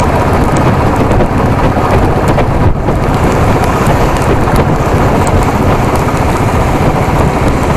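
Rain falls steadily and heavily outdoors in a park, a dense continuous hiss with a faint deep rumble beneath, loud and unbroken with no voices.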